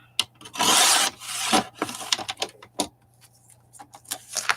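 Magazine pages are trimmed and handled up close, with a sustained rustling slide of paper followed by a string of irregular crisp snips and taps of varying loudness, and no talking.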